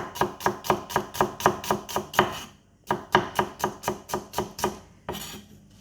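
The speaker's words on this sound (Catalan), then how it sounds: "La tallarem a juliana, fineta, el més fina que pugueu" Knife slicing a vegetable into thin julienne strips on a cutting board for a cured ham and caramelized onion flatbread, with fast, steady, close chops in two runs separated by a brief pause.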